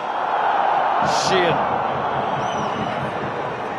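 A rugby stadium crowd at a Clermont versus Munster match roars and shouts in a dense, continuous wash of noise, with a commentator's voice briefly heard over it.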